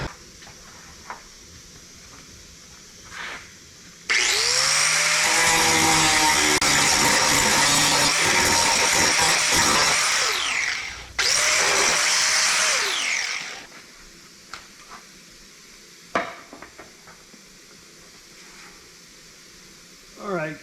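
An angle grinder smooths metal on the bed of a 1959 Chevrolet truck under restoration, running loud and steady for about ten seconds. It pauses briefly, grinds again for a few seconds and then spins down.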